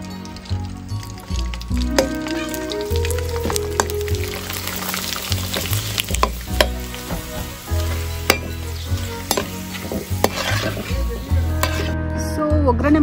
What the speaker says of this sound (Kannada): ಎಣ್ಣೆ ಕಾದಿದೆ ಈಗ. ಸೊ ಸಂಡಿಗೆ ಹಾಕ್ತೀನಿ.